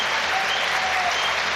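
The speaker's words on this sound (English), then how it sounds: "there's applause ringing all around Brunton Park" Crowd at Brunton Park applauds steadily during a Carlisle United versus Shrewsbury Town football match, a continuous dense clapping that fills the stadium without pause.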